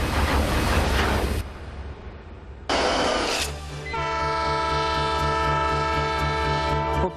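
An old steam train, the Spirit of Oregon, running through Oregon's coastal mountains: loud bursts of hissing steam and rumble, then a long, sustained whistle blast near at hand.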